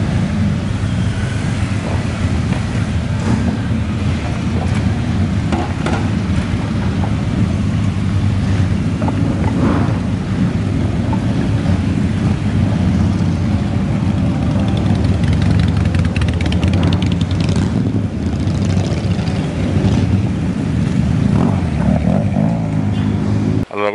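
Police motorcycle engines drone steadily and loudly as a convoy passes, blending with buffeting wind noise throughout, with no clear single pass standing out.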